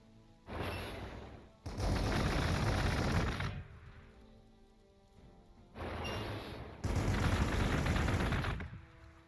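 Tank firing overwatch shots in the strategy game Warhammer 40,000: Gladius, two separate loud, sustained bursts of heavy rapid gunfire with a quieter gap between them.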